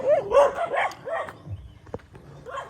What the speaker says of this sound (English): when I walk by, they barely bark by myself, but when I have the dog, they get a little more sensitive to that